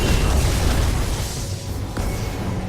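A booming burst from Braum's Glacial Fissure ability in League of Legends hits in a dense, loud low-end rumble with a crackling icy spray that fades slightly, then a sharp accent near the end, with no voices.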